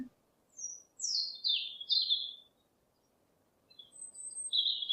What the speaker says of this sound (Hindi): पिजन को हिंदी में कबूतर कहते हैं